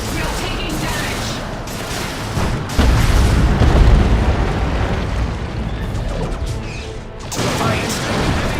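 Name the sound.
explosions and cannon fire in Dawn of War 2 video game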